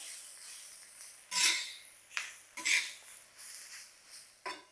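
Radish and onion stir-fried in a pan, with a spatula scraping and clattering against the metal in several sharp bursts over a soft, steady background, close by with no voices.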